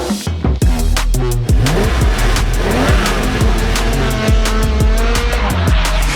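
An A90 Toyota Supra driving hard, its engine revving loudly through repeated gear changes with tire squeal, close and sustained.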